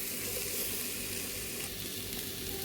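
Cooked chicken pieces mixed into masala in a pan sizzle with a steady, dense frying hiss and faint stirring scrapes throughout, close and even.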